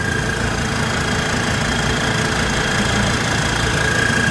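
A five-cylinder turbocharged engine on a rice-field tiller tractor runs steadily: a loud, continuous rumbling drone with an even knock and no pauses for the whole stretch.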